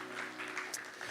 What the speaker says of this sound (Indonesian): Sekali lagi tepuk tangan buat Tuhan.